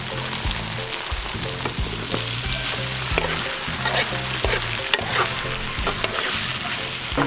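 Ackee and saltfish frying in a pan, a steady close sizzle with scattered crackles and pops that continue without a break.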